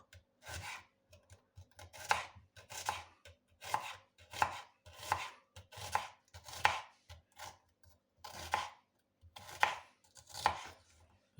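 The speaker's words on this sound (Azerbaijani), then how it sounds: "Belə samavari şəkildə, yəni laylayda, aypara görünüşündə soğanımızı doğrayırıq." A halved onion is sliced into thin half-moons with a knife for a chicken stew, a steady run of about a dozen crisp, close cutting strokes at an even pace, with no talk.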